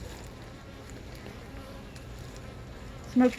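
Honeybees buzz faintly and steadily around a beehive entrance. The hum is soft and constant, and a short sharper sound cuts in near the end.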